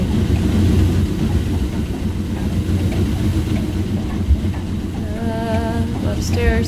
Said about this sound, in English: It's a very loud engine.